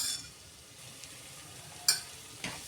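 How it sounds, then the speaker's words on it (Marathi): A spoon stirs cluster beans (gavar) frying in a pan, a faint sizzle under a few sharp scraping clinks of utensil against metal. "आता हे व्यवस्थित मिक्स करून घ्या."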